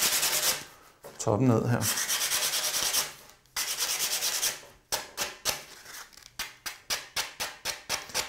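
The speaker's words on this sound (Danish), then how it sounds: "Og den kan du altså starte med bare at tage lidt sandpapir." Hand sanding of a wooden windowsill with coarse grit 60 sandpaper, close and loud: long scratchy rubbing passes, then a quicker run of short rhythmic back-and-forth strokes, with a brief spoken remark near the start.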